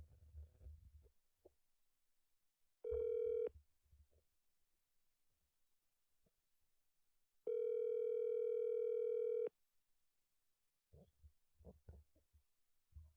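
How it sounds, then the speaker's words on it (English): A steady telephone dial tone sounds twice, a short burst and then a longer one of about two seconds, at fairly high level, between quieter stretches of muffled background talk and handling noise. "So let's give him a call"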